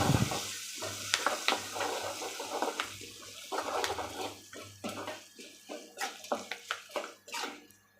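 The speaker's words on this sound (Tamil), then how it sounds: "நம்ம போட்ட வேர்க்கடலை, கடலப்பருப்பு, உளுத்தம்பருப்பு எல்லாம் நல்லா வறுபட்டுருச்சு" Peanuts, chana dal and urad dal fry in hot oil for temple-style puliyodarai. A soft, continuous sizzle carries through, with frequent scraping and stirring clicks that get sharper and more spaced toward the end.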